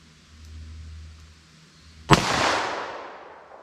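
A single sharp gunshot from a handloaded .32 H&R or .327 Federal Magnum revolver round, fired at a ballistic gel target outdoors, cracks loudly after a quiet lead-in and trails off in a broad, decaying echo.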